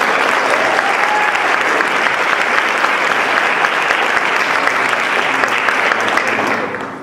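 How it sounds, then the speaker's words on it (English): A conference audience gives a loud, dense round of applause for an executive director, a sustained wash of many clapping hands that fades slightly at the very end. "Give her a very big round of applause."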